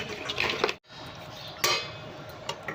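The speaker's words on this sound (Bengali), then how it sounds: "এই এঁচোড়টা জলের মধ্যে দিলাম, 5 মিনিট সিদ্ধ হবে।" Pieces of unripe jackfruit go into water in a hot pot to boil, giving a short wet splash and some clinks of utensils against the pot. A brief dull clatter follows, with no talking.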